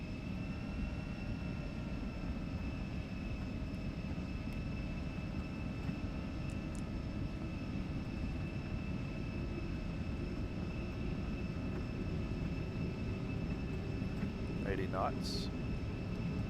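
Embraer E175 jet engines in the X-Plane 12 flight simulator hold a steady, droning roar with a high whine at takeoff power, continuous throughout, with a brief voice calling out speed near the end.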